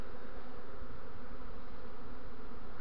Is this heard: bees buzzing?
yes